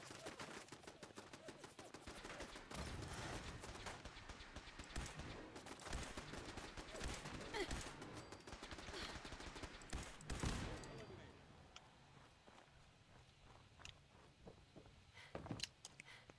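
Sniper rifle fire in Fallout 4, dense overlapping gunshot bursts through the first ten seconds, then thinning to a few scattered loud cracks over quieter background.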